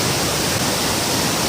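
Waterfall at Devloli dam near Panvel, a steady, loud broadband rush of falling water filling the whole moment without pause, close by and with no voices.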